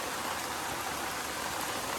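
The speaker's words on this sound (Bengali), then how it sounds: "বৃষ্টি কমার কোনো নাম নাই" Heavy rain pouring down steadily during a fishing outing, a dense, even hiss of falling water that fills the whole moment with no break and no voices.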